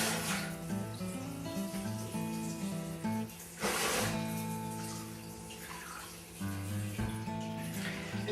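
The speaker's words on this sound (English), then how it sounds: "we're going to strain them off in the colander. And then rinse." Running water pours steadily from a tap over legumes in a colander, a continuous splashing hiss with tonal hum and a few louder surges.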